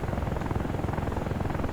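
An AH-64 Apache helicopter in the DCS World flight simulator, its rotor and engine drone steady and loud with a rhythmic blade pulse throughout, no voices over it.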